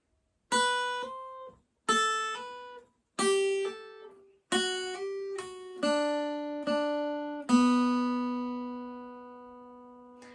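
Plucked guitar notes and chords ring out in a slow riff, each struck then left to sustain, ending on a long decaying open note.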